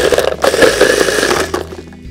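Kitchen blender chopping kiwi and mint with honey and a splash of water, a loud, steady whirring grind that runs for about two seconds and eases off near the end.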